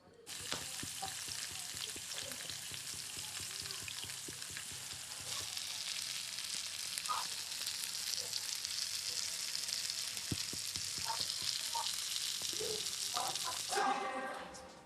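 Food sizzling steadily in hot oil on a tawa, a continuous close hiss with occasional scraping stirs and clinks, under quiet background voices, ending in a brief rattle.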